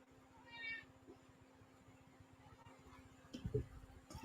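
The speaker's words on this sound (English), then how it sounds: "And I might hear my cat in the background" A house cat gives a faint, high meow early on, distant behind a steady ticking background, followed by a brief low rustle near the end; no one talks.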